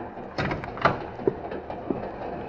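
An old time radio drama train effect: a steady rolling rumble of a moving train with periodic metallic clacks from the wheels, continuous and moderately loud.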